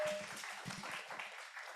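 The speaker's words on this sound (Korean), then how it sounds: "박수 격려해 주세요" Audience applause at a high school sermon contest, moderate clapping in a hall that fades toward the end, with a voice briefly audible over it.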